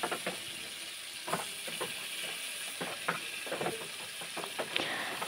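Fish frying in a pan, a soft continuous sizzle with scattered sharp crackles and occasional utensil scrapes, close and moderately quiet, with no talking.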